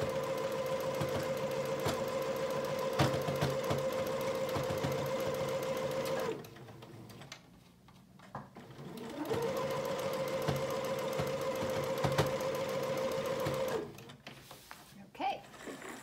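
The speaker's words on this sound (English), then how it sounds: "Going to be sewing pretty close to the edge here." A sewing machine runs in two steady bursts of stitching along the edge of a child's apron, with a short pause between runs and faint handling noise.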